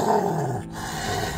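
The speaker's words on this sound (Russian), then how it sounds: "рычание." A dog growls in a low, rumbling snarl that fades briefly before resuming, one continuous growl heard close up and alone.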